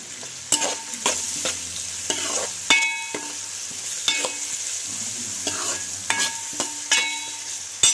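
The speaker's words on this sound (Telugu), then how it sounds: "ఇది మంచిగా ఫ్రై అవ్వనివ్వండి." Keema frying in a pan with softened onion, a spoon of turmeric and salt gives a steady sizzle, broken every second or so by a sharp scrape of the spatula as it is stirred.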